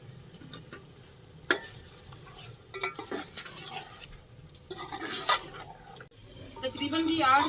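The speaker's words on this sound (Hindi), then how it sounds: "तकरीबन जी 8 मिनट हो गया मुझे कौरमे को भूनते हुए" Korma for biryani fries in a pot with yogurt and spices, giving a soft sizzle, scraping stirs and occasional metal clinks, while someone talks intermittently.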